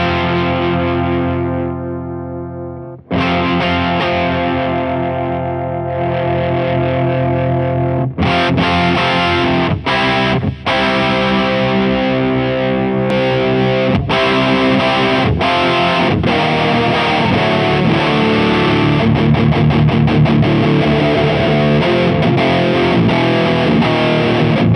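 Electric guitar played through a Fat Blob distortion pedal, loud, saturated rock chords and riffs ringing out alone with sustained, gritty tones and several abrupt chord changes.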